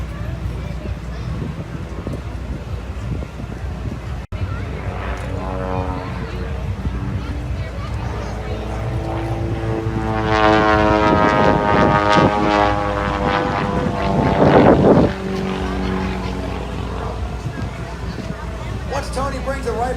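A propeller aerobatic plane performing at the Redlands, California air show, its engine drone rising and falling as it passes, louder in the middle, with a loudspeaker announcer talking over it throughout.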